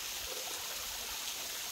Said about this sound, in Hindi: देखो पीछे ये ऊपर से गिर रहा है थोड़ा सा पानी